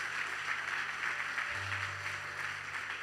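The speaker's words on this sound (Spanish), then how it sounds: "Démosle un fuerte aplauso al Señor por estas vidas." Applause fills a church service, a steady broadband patter that holds evenly throughout, with a low sustained hum underneath and no clear talk.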